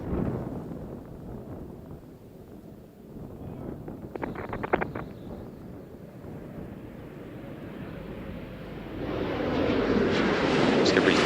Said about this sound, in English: Space Shuttle Discovery now on final approach to the Kennedy Space Center